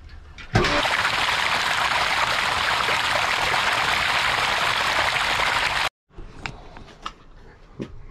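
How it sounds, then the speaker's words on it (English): Sand filter on a swimming pool being backwashed, a loud steady rush of water that starts abruptly, holds for about five seconds, cuts off, then gives way to softer splashing and dripping. "So we'll go ahead and backwash this filter and get her cleaned up."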